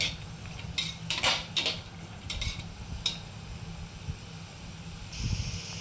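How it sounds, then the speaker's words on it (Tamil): Green peas stirred in a pan for fried rice, with quiet clinks and scrapes of a spoon against the metal in irregular clusters over a faint hiss, close and without talk. "பச்சை பட்டாணி சேர்த்து கொஞ்சம் நல்லா வதக்கி விட்டுக்கணும்."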